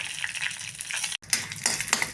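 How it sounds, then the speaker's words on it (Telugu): Mustard seeds, cumin, urad dal and dried red chillies fry in a hot oil tempering for brinjal chutney, giving a brief, close, crackling sizzle with a momentary break. "ఆవాలు జీలకర్ర ఎండుమిరపకాయలు తాలింపు అంతా వేగాలి"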